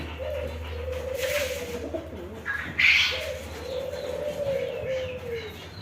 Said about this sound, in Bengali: খুব অসাধারণভাবে ডুকিগুলো ডাকতেছে